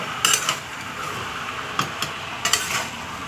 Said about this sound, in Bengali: এক কড়া তো এটাকে নাড়িয়ে নাড়িয়ে নাড়িয়ে নাড়িয়ে নাড়িয়ে এটাকে আস্তে করে নিতে হবে